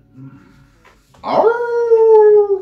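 A person's voice imitates a wolf howl during a French expression mime game: a rising, wavering 'ouuh' held for over a second, loud and close, after some quiet murmuring.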